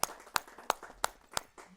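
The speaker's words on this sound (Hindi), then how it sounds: "एक बार जोरदार तालियों से हम उनका स्वागत करते हैं।" At a Hindi poetry gathering welcoming a speaker who presented a Ramayana recitation, sharp claps land in a slow, even rhythm, about five strong beats, close and distinct with quiet between them.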